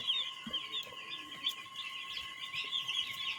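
Baby chicks chirp in a steady chorus of high, thin peeps, many overlapping calls at moderate loudness with a faint hum underneath.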